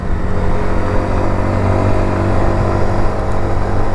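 A Hanway Muscle 125 motorcycle, a small 125 cc commuter bike, hums in a steady, even engine drone mixed with rushing road and wind noise while being ridden, with no talking.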